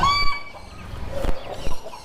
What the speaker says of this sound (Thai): เราจะเรียกเป็นไก่บ้านก็ได้ หรือจะเรียกเป็นไก่ พิเศษก็ได้